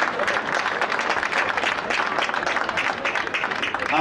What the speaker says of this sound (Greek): το μεγάλο σας χειροκρότημα παρακαλώ για αυτούς τους ανθρώπους